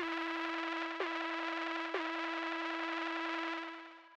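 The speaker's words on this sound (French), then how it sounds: "Et ce filtre, je vais venir le faire résonner un peu." A sustained, buzzy synth tone through a resonant band-pass filter with sharp emphasis, holding steady with two brief retriggers before fading out at the end.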